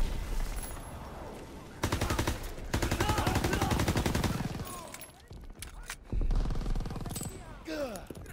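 MP40 submachine gun in Call of Duty WWII, firing several long rapid bursts up close with short pauses and scattered battle noise between them, while a person talks over the fighting.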